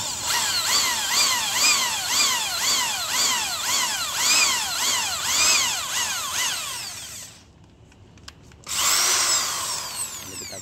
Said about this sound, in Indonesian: Ya, kita bor dulu nih, buat tempat